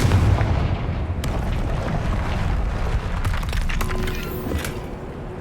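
A Confringo spell explosion blasts apart a barrier in a video game, a dense booming rumble that starts at once, followed by crackling debris and scattered clattering impacts that fade out.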